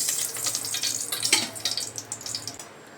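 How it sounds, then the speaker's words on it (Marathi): Oil poured into a pan for Malvani crab curry makes a quick liquid splash and trickle up close, tapering into a faint patter. "आता आपण ह्याच्यामध्ये तेल घालून घेणार आहोत"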